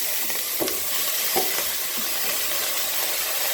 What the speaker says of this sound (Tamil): எல்லாத்தையும் போட்டு வறுத்து போட்டு இது வறுத்ததும் நல்லா வறுபட்டு போகுது